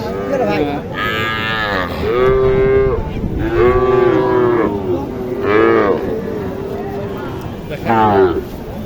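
Cattle at a busy village cattle market moo loudly again and again, with long drawn calls following one another close by and the murmur of people talking underneath.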